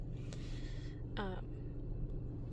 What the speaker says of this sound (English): So I do have my AC on in my car.